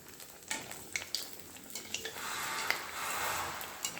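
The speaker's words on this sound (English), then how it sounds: "I will fry all this nest in a medium." Nest bites frying in a medium-hot pan of oil, a steady broad sizzle that swells midway and holds, with scattered scrapes and taps of a utensil against the pan.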